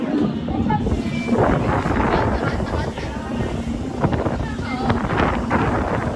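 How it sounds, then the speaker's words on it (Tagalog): Strong wind gusting and buffeting against the microphone at a beach resort in Mactan, a constant roaring rush with faint voices underneath. "Hangin, oy."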